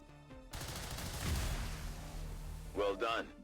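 Gunfire from the Highlander Mod Jam campaign video game: a dense burst of shots fills the middle of the clip, moderately loud, with a voice talking briefly near the end.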